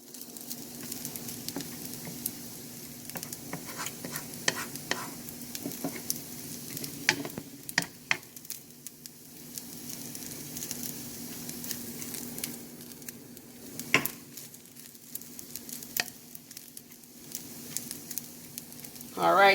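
Shrimp fried rice sizzles and is stirred in a pan for Chinese-style fried rice: a steady quiet sizzle runs throughout, broken by scattered scrapes and clinks of stirring.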